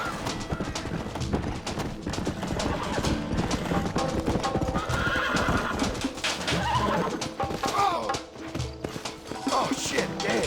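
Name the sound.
horses neighing and hooves in video game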